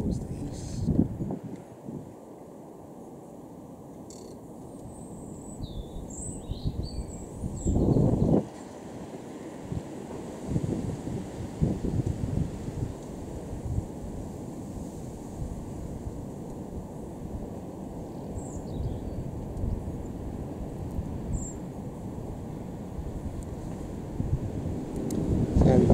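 A strong gale buffets the microphone outdoors near Cambridge, UK, with a continuous low roaring rumble that swells into heavier gusts throughout.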